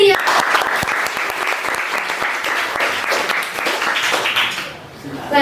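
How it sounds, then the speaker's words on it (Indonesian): An audience at a talk-show style school event gives loud, sustained applause, dense clapping from many hands that holds steady before easing toward the end. "Kayak berikan tepuk tangan yang meriah."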